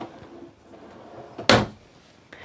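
A storage lid beneath the bed in a 2024 Grand Design Solitude 310GK fifth-wheel RV shuts with one sharp, fairly loud thud midway, after faint handling noises, followed by quiet room tone.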